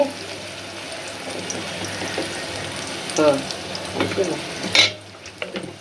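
A paste of onion, garlic, bay leaf, cardamom and garam masala sizzles steadily in oil, punctuated by a few stirring scrapes and a sharp clink near the end.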